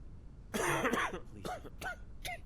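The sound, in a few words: coughing from a patient in the video game Quarantine Zone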